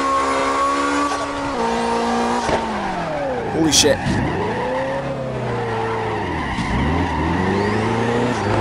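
A Nissan S13 slides through a housing complex in the mobile CarX Drift Racing game, its engine revving and tires squealing in sweeping, rising and falling whines. Someone shouts an excited exclamation over it partway through.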